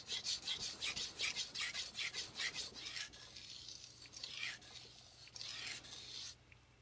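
Tojiro Professional R2 santoku knife tip being sharpened on a whetstone: a run of quick rhythmic rasping strokes, then sparser, softer scrapes, close and fairly quiet.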